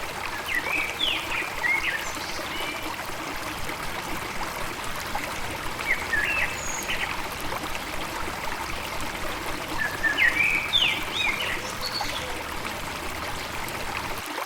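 A cool spring of water rising in the midst of a wood flows with a steady, broad rush and trickle, with faint birdsong chirping now and then above the continuous water.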